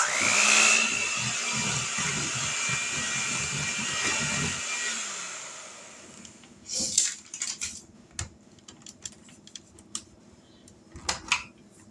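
Electric mixer whirring through oatmeal raisin cookie dough with applesauce, a steady close motorized drone for about five seconds that stops, followed by clinks and clatter of utensils and bowls.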